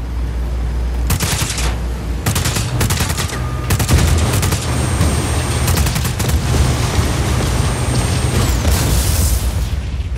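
Rapid bursts of gunfire blast at a generator in the Just Cause 4 video game, loud and dense for most of the stretch, with booming impacts layered over a steady game background.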